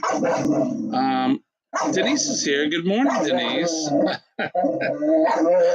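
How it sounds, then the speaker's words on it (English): A vocal dog barks, yips and whimpers repeatedly, close and loud, in bursts interleaved with a person talking. "I have a very vocal dog, as you can hear."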